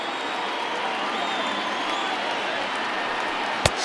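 Large stadium crowd of over 39,000 in MLB The Show 2020 baseball game, cheering steadily on their feet at a final-strike moment, a dense continuous roar with a sharp crack near the end.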